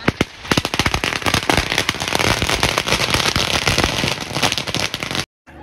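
Missile-type firecrackers bursting outdoors in a dense, rapid barrage of sharp cracks and pops, loud and continuous for about five seconds before stopping abruptly.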